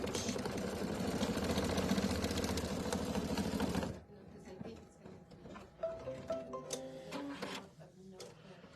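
A home embroidery machine stitches a tiny umbrella design in a quilting project, its steady rapid whirring loud for about four seconds before it stops, leaving quieter clicks and talk.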